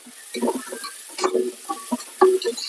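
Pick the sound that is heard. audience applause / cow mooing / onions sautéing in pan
onions sautéing in pan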